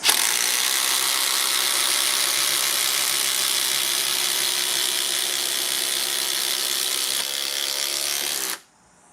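A power driver runs continuously, whining and buzzing steadily as it sinks a screw through 150mm battens, loud and close for about eight and a half seconds before stopping abruptly.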